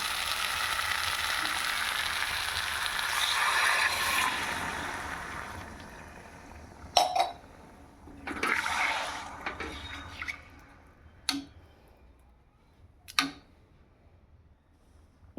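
Water is poured into a hot iron wok of fish cooking with aubergine, making a steady hiss and sizzle that tapers off, followed by a few sharp clinks of a utensil against the pan.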